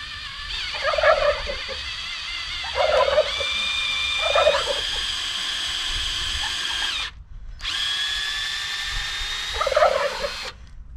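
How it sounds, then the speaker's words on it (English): A cordless drill bores a tap hole into a maple tree, its motor whining in steady bursts with a stop in between and the gritty chatter of the bit biting into the wood, close by. "I'm going to select a spot, put my drill there, and just kind of angle it slightly upward"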